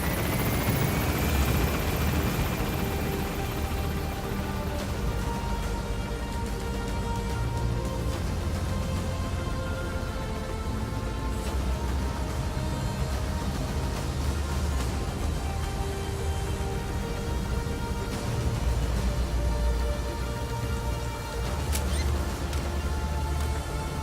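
A Metal Gear Solid V helicopter drones loud and constant throughout, its rotor roar steady and close, with no talk over it.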